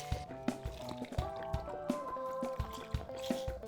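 Lemons are juiced by hand for an Aviation cocktail, giving a rhythmic series of wet squeezes and drips, about a dozen close, soft pulses in quick succession.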